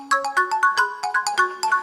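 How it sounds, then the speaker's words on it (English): A phone keypad being dialed, heard as about a dozen quick, bright electronic tones in an uneven run, each a short chirp at shifting pitch, loud and close with no voices. "Dialing."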